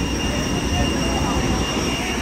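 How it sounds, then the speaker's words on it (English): A jet airplane at an international airport produces a loud, steady roar of engine noise with a constant high whine layered over dense broadband rumble. "That's the plane, guys."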